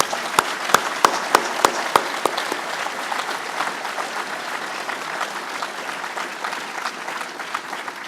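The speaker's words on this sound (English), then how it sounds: "Let's have another round of applause for the Minister." Audience applause for the Minister at a closing ceremony, starting with a few sharp, loud claps before settling into steady, dense clapping from a large crowd that carries on evenly throughout.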